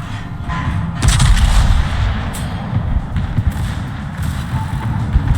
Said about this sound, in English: And we get a nice 39k salvo there